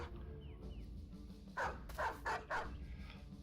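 Several dogs in the video game Battle Brothers bark in short bursts, four quick yaps close together over a quiet rumbling background, with a faint whine early on.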